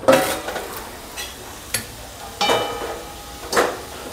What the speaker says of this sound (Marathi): मी आता झाकण खोलते।